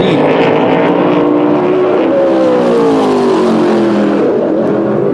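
Modified race car engine roaring loud and steady through a qualifying lap at South Boston Speedway, the prototype racer's revs rising and falling across the whole stretch with no talk.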